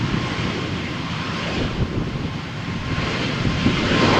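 Airplane accelerating down runway 13 at Malaga Airport on a stormy morning, a steady broadband engine roar with wind rumble that holds loud and constant, swelling slightly toward the end.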